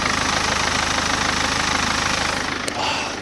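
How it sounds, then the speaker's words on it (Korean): A BMW 520d's B47 diesel engine idles steadily close by, a low rhythmic rumble with a slight knock, loud and continuous with no talking. "자, 바로 엔진음 들려드릴게요."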